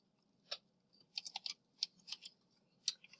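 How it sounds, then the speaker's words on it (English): Typing on a computer keyboard, a faint, close patter of separate key clicks coming in small irregular clusters, with no voice. "then you can type in there whatever it is"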